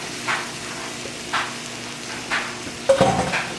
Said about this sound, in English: Just kind of toss it to make sure everything's coated